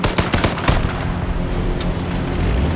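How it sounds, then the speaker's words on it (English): Grenade explosions and gunfire in a multiplayer shooter video game, opening with a quick burst of sharp cracks, then settling into a dense, continuous rumbling roar. "you can hear those bombs just blowing up right now"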